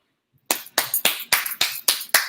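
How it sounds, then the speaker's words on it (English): Eight sharp, evenly spaced hand claps ring out close and loud after a brief silence, each snapping crisply in a steady rhythm. "me give you my clap. No, my clap."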